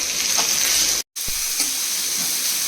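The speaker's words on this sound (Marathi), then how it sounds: "थोडंसं कांदा ट्रान्सपरंट होईपर्यंत हे आपल्याला परतून घ्यायचं, थोडंसं तेल घालून" Onion frying in a little oil in a pan, a steady loud sizzle and hiss throughout with a few light stirring scrapes and one brief cut-out partway through.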